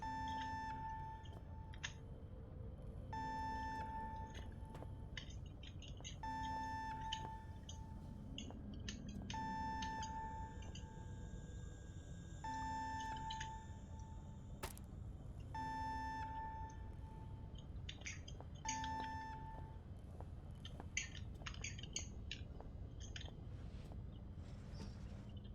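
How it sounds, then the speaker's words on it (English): Repeating electronic beeps in the horror video game Penumbra: Overture, sounding in short regular bursts with pauses between them over a quiet, low ambient drone, with no talk. "Okay, it stopped beeping"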